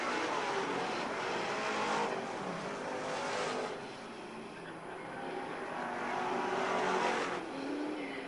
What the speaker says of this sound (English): Field races off of turn number 2 down the backstretch.